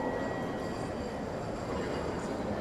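A train rolls through Omiya Station in Saitama, Japan, with a continuous rumble of wheels on rails and faint high squeals, steady and fairly close, with no voices.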